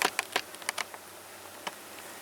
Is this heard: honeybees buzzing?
yes